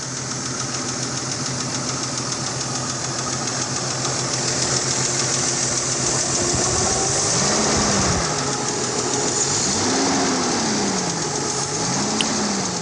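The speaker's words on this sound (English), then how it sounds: "So I'm sure everybody is familiar with the lifter tick noise, but just in case you're not, here it is." A Jeep XJ engine idles steadily with a fast, light lifter tick running through the running noise, close and continuous, with a faint rising and falling whine late on and no talk.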